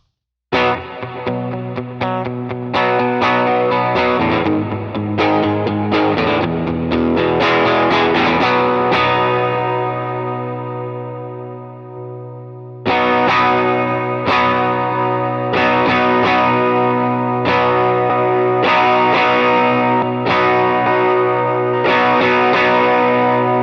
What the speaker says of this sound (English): I want to show you the tones the amp has